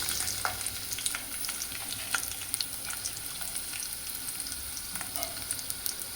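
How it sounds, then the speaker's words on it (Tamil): Crushed shallots sauté in oil with cinnamon and cloves for a country chicken rasam, giving a steady close sizzle with light scraping stir strokes scattered throughout and no voices. "சின்ன வெங்காயம் போட்டு நல்லா வதக்கி விடுங்க"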